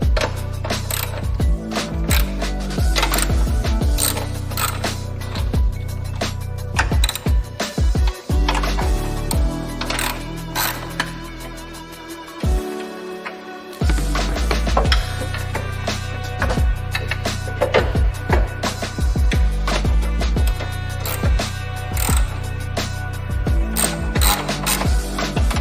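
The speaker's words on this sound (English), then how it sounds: "let's go ahead and pull off the 2 nuts on each side, 4 nuts total, and get this thing bolted up." A ratchet wrench removes nuts from a car part for an FRS or BRZ, giving rapid, loud clicking bursts close up that repeat throughout with short pauses between runs, and no one talks.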